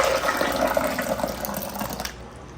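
Hot water pours steadily into a container on a kitchen scale, a continuous splashing fill that gradually settles, heard alone and close.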